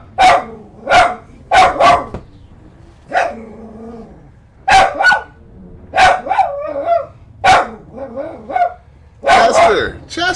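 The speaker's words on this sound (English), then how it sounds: "It's just somebody walking a puppy." A puppy barks in short, sharp bursts, singly and in quick pairs and triplets, while someone talks between and over the barks.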